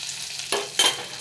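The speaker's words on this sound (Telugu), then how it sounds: "ఇప్పుడు పోపు ఫ్రై చేసుకుందాం" Tempering spices fry in a small amount of oil in a pan for a tomato and lentil dish, giving a steady close crackle broken by two sharp sizzling bursts, with no talking.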